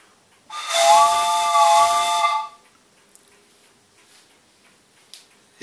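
A vintage Acme three-tone train whistle, with three chambers of different sizes, gives one loud, steady chord-like blast of about two seconds. A few faint ticks and clicks follow in near silence.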